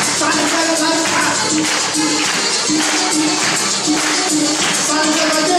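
Children in a Simon Says game clap along as a group, with regular pulses of hand claps recurring roughly every second over music and a busy room.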